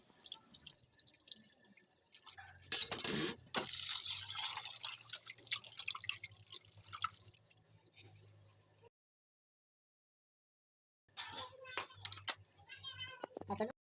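Small raw chicken pieces being rinsed with water in a home kitchen, with steady splashing and dripping for about nine seconds, a pause, then a shorter burst of watery sound.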